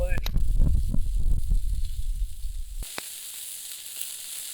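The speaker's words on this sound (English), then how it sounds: "That's the sizzle I like to hear on the Biji." Food sizzles loudly on a Biji grill over a campfire, a dense crackling hiss with some low rumble that gives way to a softer, steady hiss after a sharp tick.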